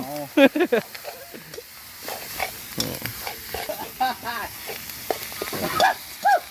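Bird meat stir-fries dry in a pan, with sizzling and the scrape of stirring heard close, while people talk loudly over the cooking.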